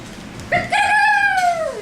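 A person imitates a rooster's crow, a single drawn-out rising and falling call lasting about a second, loud and close.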